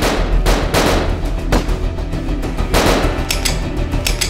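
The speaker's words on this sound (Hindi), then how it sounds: "करिश्मा सिंह, हमारी गोलियां खत्म हो गई" Gunfire shootout in a Hindi police TV drama, with repeated bursts of loud, close shots and rapid volleys cracking one after another, dense and continuous with no voices.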